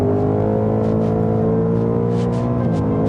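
A seventh-generation Ford Mustang GT with a naturally aspirated 5.0-litre V8 accelerates in sport mode, its engine a loud, continuous rising drone heard from close inside the car, steady throughout.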